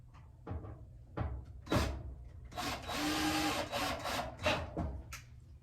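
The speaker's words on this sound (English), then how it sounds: "I am using a power drill" Short bursts of a power drill driving screws, several spaced pulses with a longer run in the middle, close by with some clunking of wood between, during a Samsung dryer belt repair.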